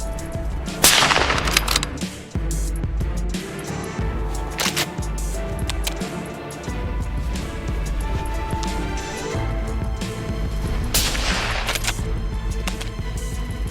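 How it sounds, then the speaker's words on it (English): A hunting rifle fires at a wild boar in dry, grassy hill country, with one sharp, loud report near the start and another broad blast later, over a dense, continuous background of outdoor noise and music-like sound. "I raised my rifle, my heartbeat racing. Bang!"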